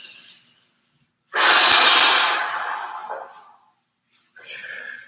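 Deep, forced breathing during a lymphatic exercise routine: a single long, loud exhale that rushes out and slowly fades over about two seconds, with softer breaths before and after it.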